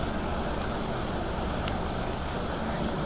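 Rain falls steadily outdoors at night, a dense, even hiss of drops with faint scattered ticks, continuous and fairly soft with no voices over it.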